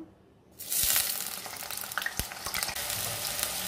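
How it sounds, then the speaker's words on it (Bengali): Potatoes frying in hot oil in a pan for a jackfruit curry, a steady loud sizzle starting after a brief quiet moment, with occasional stirring clinks and scrapes over the continuous crackle. "এবার তেলের মধ্যে প্রথমে আমি দিয়ে দেব আলুগুলো ভালো করে ভেজে নেব, লাল লাল করে একদম"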